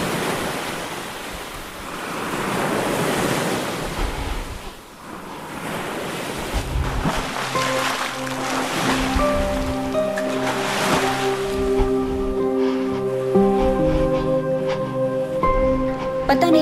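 Ocean waves wash ashore on a beach, a broad rushing surge with wind that fades as sustained music swells in and plays over the surf.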